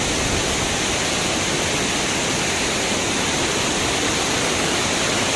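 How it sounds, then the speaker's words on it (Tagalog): Rushing water pours down a waterfall in a loud, steady, broadband roar that never lets up and is not broken by any voice. "Sulit yung ingay ng tubig mga kamanoy, ng waterfalls."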